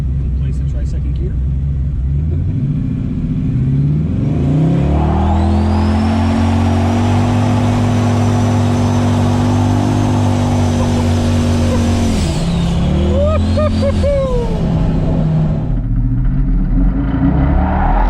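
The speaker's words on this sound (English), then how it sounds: "Think it'll do a second gear burnout?" A car does a second-gear burnout after an engine repair, a loud, strained engine revving hard and holding high RPM against the wheelspin, then dropping off with gear changes at the end. Voices are faintly present.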